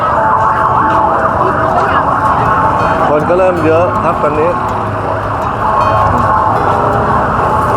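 Emergency vehicle siren wailing loudly at a crowded night market by Phra Pathom Chedi, rising and falling over steady crowd noise while someone speaks nearby.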